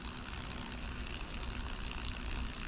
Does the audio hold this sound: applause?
no